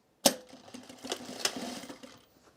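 Sewing machine stitching a patch onto denim jeans during a repair, a short burst of fast mechanical stitching that starts abruptly, runs for under two seconds and winds down, close and fairly quiet.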